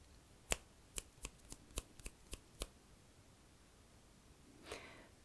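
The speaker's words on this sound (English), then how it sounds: "listening which side the clicking is coming from" Eight sharp, close ASMR clicks sound in quick irregular succession, followed by a pause and then a softer rustling swell near the end, quiet and without talk.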